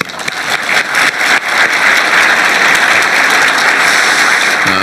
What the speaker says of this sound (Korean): 박수로도 한번.